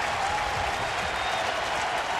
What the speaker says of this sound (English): Rhythmic applause by the Giant fans